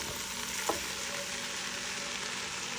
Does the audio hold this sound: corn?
yes